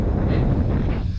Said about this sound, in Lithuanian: Vėjas jau čia stiprus.